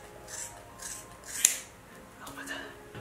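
Scissors snip through the synthetic hair of a pixie-cut bob wig with one sharp, close cut. A voice speaks over the light rustle around it.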